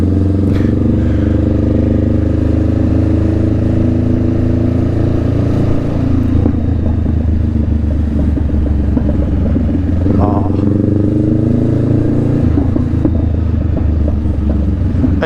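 Up close, a Honda Rebel 500 with an aftermarket Vance & Hines exhaust runs in a continuous loud, low rumble, the engine pulse wavering slightly as it shifts between idle and light throttle.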